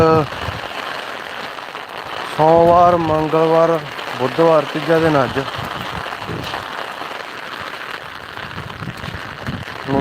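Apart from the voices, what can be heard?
heavy rain falling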